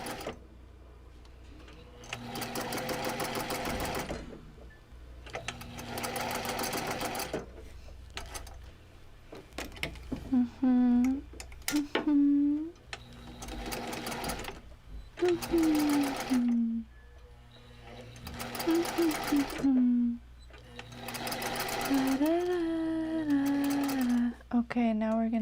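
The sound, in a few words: sewing machine stitching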